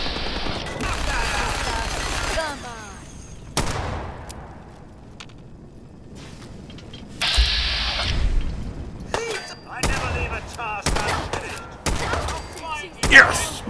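Minigun fire in Fallout 4 comes in loud, rapid metallic bursts broken by gaps, with clanging impacts and ringing hits between the volleys and no talk.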